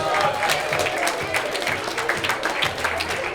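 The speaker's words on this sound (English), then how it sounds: "give them all a big round of applause" Audience applause at a bar mitzvah party, a steady round of clapping from the guests with a few voices and cheers mixed in, fairly loud and close.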